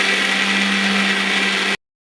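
A kitchen grinder whirs steadily and loudly as it grinds coconut with coconut water into a fine paste, a constant motor drone that cuts off abruptly near the end.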